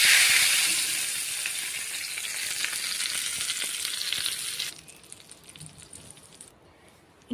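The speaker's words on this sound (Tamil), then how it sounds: "நல்லெண்ணெயில் கடுகு, உளுத்தம் பருப்பு, கடலைப்பருப்பு, கொஞ்சம் கருவேப்பிலை" Mustard seeds, urad dal, chana dal and curry leaves crackle and sizzle in hot sesame oil for a chutney tempering, a loud, dense frying hiss that drops sharply partway through and fades near the end.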